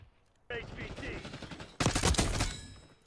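Gunfire in a Black Ops video game: a quieter stretch of shots gives way to a louder, dense burst of rapid fire after a short silence, with a voice faintly present.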